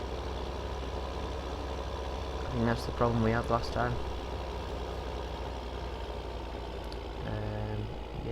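A tractor engine idles in the video game Farming Simulator 2015, a low steady rumble running under someone talking throughout.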